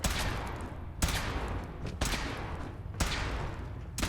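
A weapon test in Fallout 4 fires in loud, dense bursts of gunfire, with sharp reports recurring at roughly one-second intervals over a continuous roar and no talking.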